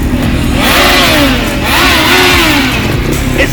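A 2023 Kawasaki ZX14R sport bike with a Brembo brake system revs hard and close by, its engine note climbing and falling in two long sweeps over a steady loud roar with no talking.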